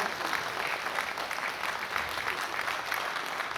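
An audience at a Nepali bank's annual general meeting claps steadily and warmly, a dense, even wash of applause from many hands throughout.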